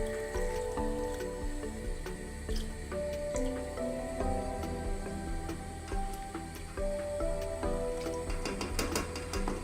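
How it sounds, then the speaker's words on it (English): Green lentils are soaked and washed in water, giving soft squishing, dripping and splashing sounds under steady background music, with no talking. "First soak green lentils in water"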